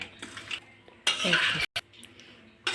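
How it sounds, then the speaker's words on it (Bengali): Metal spoon scraping and clinking against a pot while mutton is stirred with mustard oil, in short bursts with a brief sharp clatter midway, fairly close with quiet room background. "ভালোভাবে এবার মাংসটা নাড়াচাড়া করে নেবে"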